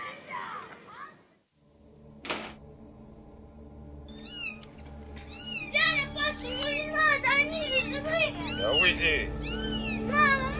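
Several kittens meow repeatedly at close range in high, overlapping cries that grow busier toward the end, while a child and other people speak around them.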